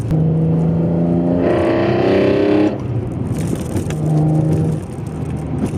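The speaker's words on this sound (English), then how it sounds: "the wonderful sound of those throttle bodies opening up from the Veloctiy stacks" A BMW E46 M3 straight-six engine with velocity stacks revs hard with a throaty induction roar, rising then easing off, then climbing again, heard from inside the car.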